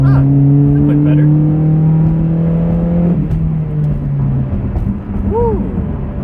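Mitsubishi Galant car accelerating hard on a road, its engine droning and rising steadily from inside the cabin, loud and continuous, fading into road rumble toward the end.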